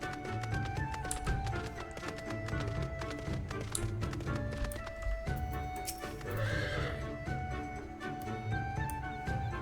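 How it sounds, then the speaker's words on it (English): A snowy white horse in Final Fantasy XIV neighs and whinnies repeatedly over clip-clopping hooves and a busy game soundtrack, loud and close, with no talk. "Don't just ignore the snowy horse."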